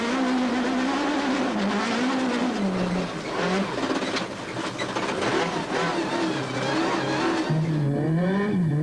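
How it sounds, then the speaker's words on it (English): A Volkswagen Polo rally car in poor conditions strains for traction, its engine revving hard and wavering continuously as the wheels scrabble, loud and close throughout. "as the Polo struggles for traction"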